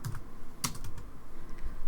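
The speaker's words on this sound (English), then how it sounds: "You just start typing" Typing on a computer keyboard: a short run of soft, irregular key clicks, fairly quiet and close, with no talking.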